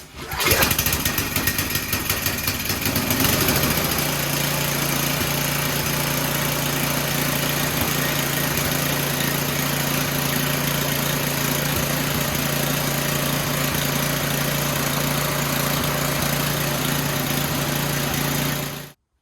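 An Ariens 8526 snowblower engine catches after a few rough pulls and a burst, then settles into a loud, steady idle that drones on alone until it cuts off abruptly at the end.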